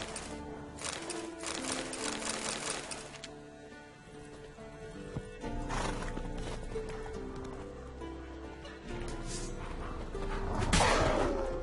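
Horse in The Witcher 3 game world, faint hoof clip-clops and shuffling amid layered game music and ambience, with a brief louder rustling burst near the end.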